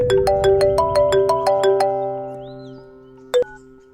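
A phone plays a bright, rapid melodic ringtone of repeated chiming notes that fades out, followed by a single short tone near the end.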